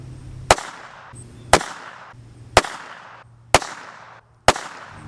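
A Raven Arms MP-25 pistol fires five sharp, loud shots spaced roughly a second apart, each ending in a short ringing decay.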